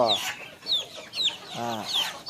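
Chickens cluck close by in a series of short, rising calls, with one fuller, drawn-out cackle near the end.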